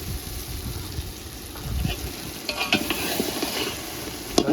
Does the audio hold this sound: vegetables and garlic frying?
yes